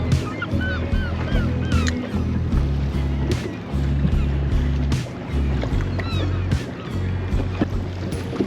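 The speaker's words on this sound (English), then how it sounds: "the birds are literally feeding right on top of the pot" Seabirds feeding over a crab pot at sea off the UK coast give repeated squawks and honking calls, fairly close, over the constant low drone of a boat engine.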